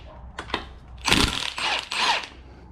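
Power tool spins off the 19 mm strut top nut on a Toyota Highlander, two short taps followed by three close, loud buzzing bursts of the tool.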